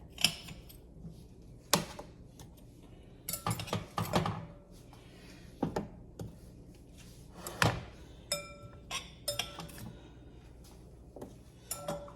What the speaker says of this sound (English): I'm just trying to get them all on the pan.